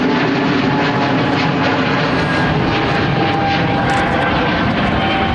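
An airliner climbing out overhead from Heathrow runway 09R produces a loud, continuous jet roar that fills the whole stretch, dense and steady, with no talking.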